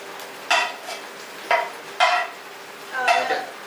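Roasted soya chunks stirred into fried chili masala for a soya chunk pickle, giving four scraping, clattering stirs of a spoon against the pan at uneven intervals, fairly close, with no talking.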